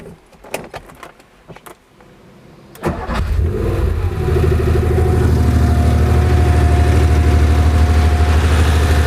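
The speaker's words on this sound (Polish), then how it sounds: "odpalimy, żeby pokazać najlepszy temat tego auta, czyli wydech i jak on pracuje" A 1978 Porsche 911 SC Targa with a 2994 cc flat-six makes a few quiet clicks, then the starter cranks and the engine catches loudly, settling into a strong, steady idle burble from the exhaust close by.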